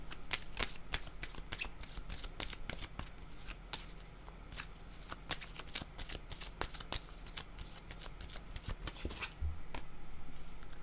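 Tarot cards shuffled by hand, a steady run of crisp riffling snaps and shuffles close to the microphone, continuing for about ten seconds with no one talking.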